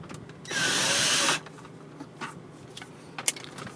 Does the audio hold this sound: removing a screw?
yes